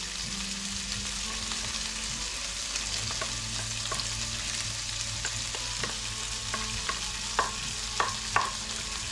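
Shrimp sautéing with garlic over high heat in a pan for a sweet-and-sour garlic shrimp dish, giving a steady, close sizzle punctuated by a few sharp utensil clicks toward the end, with no talking.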